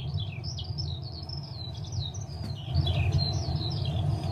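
Continuous high, twittering skylark song with rapid warbles and trills, moderately faint over a steady low hum, no voices.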